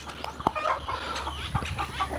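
Hens cluck close by on a ranch in a run of short, irregular calls, with a few sharper squawks over a low steady hum.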